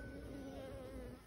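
Honeybees buzz steadily and softly around an open hive frame of empty honeycomb holding pollen and a little honey, making a close, continuous drone with no voices.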